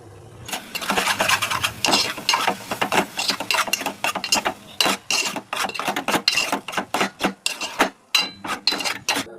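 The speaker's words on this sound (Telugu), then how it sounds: "మేము మిక్సీ పట్టుకుందాము." A kitchen mixer grinder blends garlic, cumin and dried red chillies in short, loud pulsed bursts, with brief pauses between whirring spurts and no talking.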